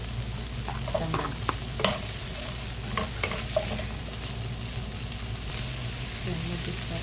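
Garlic, ginger, onion and lemongrass sauté in a pan for ginataang gulay with shrimp, a continuous close sizzle with scattered scraping stirs and clinks throughout, no talk.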